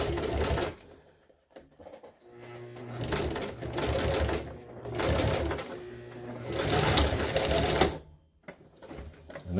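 Sewing machine stitching seat bottom upholstery for a 1966 GMC, running in steady buzzing bursts separated by short pauses, close and loud, with no voices.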